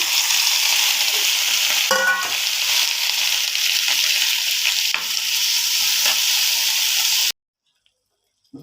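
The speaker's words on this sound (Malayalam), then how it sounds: "തക്കാളി ഉള്ളിയൊക്കെ നന്നായി വഴണ്ട് വന്നിട്ടുണ്ട്" Onion, curry leaves and chopped tomato sautéing in a pan for tilapia pollichathu, a steady close sizzle with stirring scrapes running for about seven seconds before cutting to near silence.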